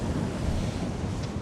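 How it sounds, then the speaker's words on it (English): Steady wind buffeting the microphone over constant surf on the Northumberland coast during shore fishing, a dense unbroken roar filling the whole moment with no voices. "I'm trying to cast into the wind, but the wind's putting a big bow in the line"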